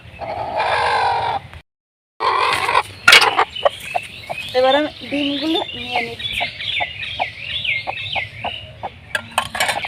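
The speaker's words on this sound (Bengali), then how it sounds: "করকনাথ মুরগি আর ওই দুটো হলো দেশি মুরগি" Kadaknath and desi hens cluck and call repeatedly in a backyard coop where one hen sits on eggs, with a brief break partway through, a few sharp knocks, and someone speaking briefly over the birds.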